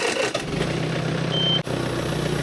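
A farm tractor engine runs at a steady idle close by while the water is hooked up, a continuous low mechanical drone with one brief dip partway through.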